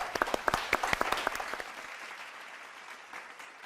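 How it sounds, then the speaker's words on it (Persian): A studio audience at a talk show applauds, with sharp, loud claps at the start that soften into a fading patter of clapping. "تشویقش بکنید."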